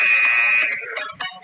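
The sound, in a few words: workout timer buzzer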